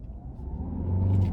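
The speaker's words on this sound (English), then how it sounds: "even in eco mode, you give this thing a little bit of throttle and it goes" Inside a 2025 Hyundai Santa Fe Hybrid SEL accelerating in eco mode, a low engine rumble swells and steadies over a brief moment, heard from the cabin with no voices.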